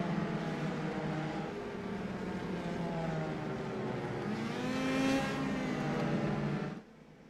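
Race cars from the Indy Pro 2000 series (PM18 cars) in iRacing rolling on a pace lap behind the safety car, with a steady engine drone that swells and rises in pitch before cutting off near the end.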